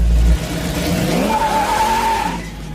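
Dodge Super Bee blazing its tires in a loud burnout, a sustained rising screech of rubber over a roaring, revving engine, close and continuous throughout.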